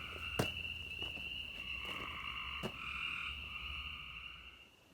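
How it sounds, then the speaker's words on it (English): Frogs croak at night beside a pool under construction, a steady, fairly faint chorus of ringing calls with a few sharp clicks, fading out toward the end. "The frogs have started singing"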